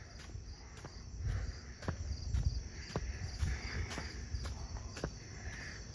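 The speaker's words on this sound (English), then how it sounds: "Actually, there's a cricket I hear." A steady high-pitched cricket chirp drones continuously in the background, faint and close, with scattered clicks and low rustling noise.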